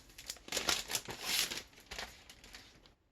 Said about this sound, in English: I'm going to go ahead, sorry about the noise here, I'm going to go ahead and open the magic mat.